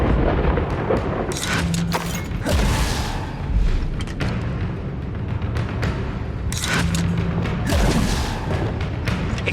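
Confringo spell explosions in Hogwarts Legacy, heard as two heavy booming blasts several seconds apart with crackling bursts, set against a continuous loud bed of game effects and rumble.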